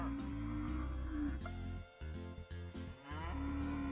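Cows moo in a video game with tornadoes, low drawn-out bellows that overlap, break off briefly mid-way, then resume loud and close.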